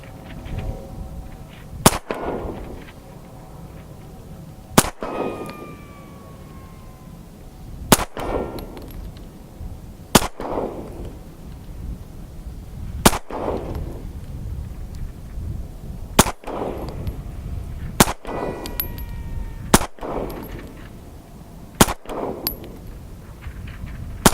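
Hi-Point JCP pistol fired outdoors in a steady series of about a dozen sharp, loud gunshots a couple of seconds apart, each with a brief echoing tail.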